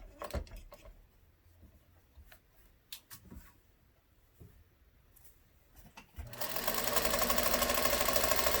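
Faint clicks and handling of fabric pieces on a hat give way at about six seconds to a sewing machine stitching loudly and steadily until the end, close by and with no speech.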